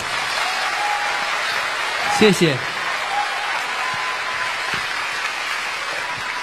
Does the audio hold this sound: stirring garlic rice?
no